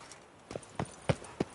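Hooves of a horse in The Witcher 3 clop on hard ground, four distinct evenly spaced thuds in a brisk trotting rhythm, close and fairly quiet.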